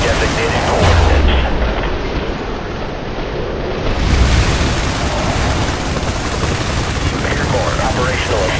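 In the harbor level of the game IS Defense, heavy airstrike explosions boom and rumble continuously, deep blasts rolling over each other, loud and close, while a voice speaks over them.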